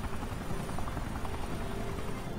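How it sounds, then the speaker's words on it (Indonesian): A helicopter in the video game Resident Evil 5 drones with a steady, dense rotor-and-engine rumble that holds at an even level throughout. "Oh enggak, kita di helikopter mas."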